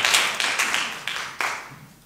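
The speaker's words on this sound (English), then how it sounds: "it deserves a clap, don't you think" A small audience at a Salvation Army citadel in Croydon claps in scattered, uneven bursts, a few sharp hand strikes standing out above a soft patter that trails off within a couple of seconds.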